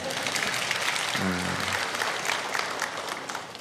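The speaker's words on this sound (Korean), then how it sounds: "우리 박수 한번 쳐주겠습니다." Congregation applause during a church service, a dense, continuous clapping from many people filling the room, with a brief low tonal voice-like sound briefly rising over it early on.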